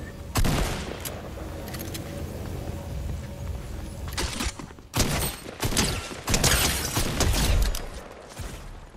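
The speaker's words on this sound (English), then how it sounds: "Yeah, this shotgun's really bad." Shotgun blasts in Fortnite, a few sharp loud shots spaced apart, with a cluster of rapid firing near the end over background game noise and footsteps.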